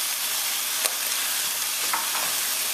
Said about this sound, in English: stir this to start picking up more of those flavors from the bottom of the pot